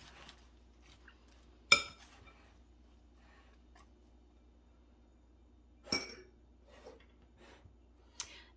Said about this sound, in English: Give it just a light little toss.